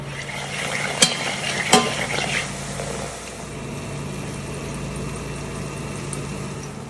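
Onions and garlic sizzle in olive oil in a pan, a steady close frying hiss with a couple of sharp clinks from stirring early on, then an even, unbroken sizzle.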